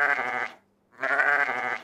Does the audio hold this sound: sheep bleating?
yes